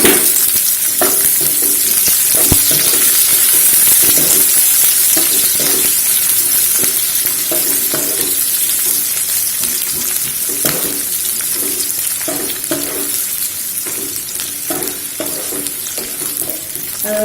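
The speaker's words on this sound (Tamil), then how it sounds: "பச்சை மிளகாய் போட்டுக்கலாம். வெங்காயத்தை" Green chilies and onions frying in a pan with a loud, continuous sizzle and repeated stirring scrapes close by, no speech over it.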